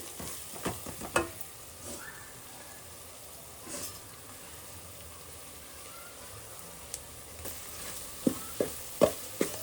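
Mandakki oggarane roasts in a pan with turmeric, giving a soft, quiet sizzle broken by scattered scraping clicks of stirring that get sharper and more frequent toward the end.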